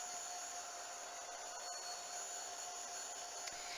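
A heat tool blows over archival ink on a mixed media birthday card, a steady high whirring hiss held evenly throughout, fairly faint and with no voices.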